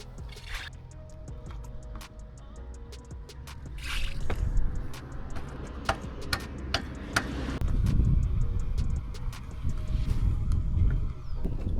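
Bicycle cranks spin on a partly built bike, making a scatter of sharp ticks and clicks over low handling noise, with a few louder knocks in the middle.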